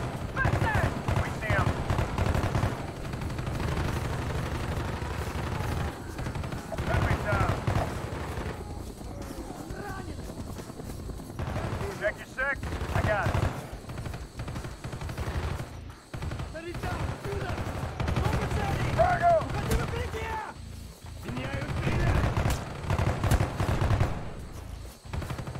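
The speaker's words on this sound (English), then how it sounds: "Oh, that's a shotgun." Shotgun fire rings out during a Call of Duty: Black Ops campaign battle, mixed into dense, sustained gunfire and combat noise that runs nearly unbroken throughout.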